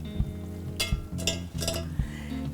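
Drained pasta noodles go into butter sauce in a skillet, where a soft simmering sizzle is broken by a few bright scraping and clinking bursts of utensils against the pan.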